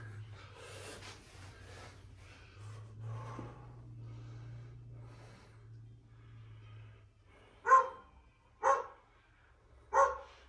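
Three sharp dog barks ring out toward the end, spaced about a second apart, after a stretch of low hum and faint background sounds.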